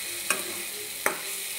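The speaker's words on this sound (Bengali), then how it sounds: "এখন আমি ডিম ভাজাগুলোকে দিয়ে দেব, দিয়ে সবজির সঙ্গে ভালোভাবে নাড়াচাড়া করে নেব" Fried egg pieces are stirred into boiled vegetables in a pan, making two brief scraping strokes about three quarters of a second apart over a quiet background, with no talking.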